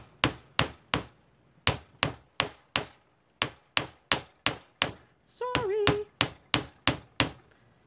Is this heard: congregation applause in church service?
no